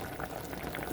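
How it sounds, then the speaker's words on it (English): Meat and fresh tomatoes boil in a covered pot for a tomato sauce, giving a steady close bubbling and simmering hiss that runs throughout without pause. "So they are just boiling."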